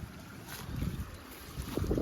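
Wind gusts across a corn field, a low rumbling buffet on the microphone with a steady airy hiss, swelling slightly at the end, with no one speaking.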